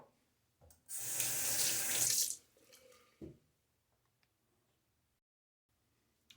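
Tap water runs briefly onto a shaving brush at a sink, a loud splashing burst lasting about a second and a half, followed by softer handling sounds and then quiet.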